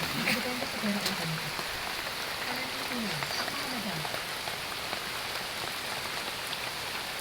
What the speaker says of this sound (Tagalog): Kaso lang ulan.